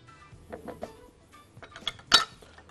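A spoon clinks and taps against a bowl while stirring yeast, warm water and honey for pizza dough. The light, scattered clicks are faint and irregular, with one sharper clink near the end.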